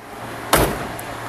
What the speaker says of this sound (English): Let me shut this door.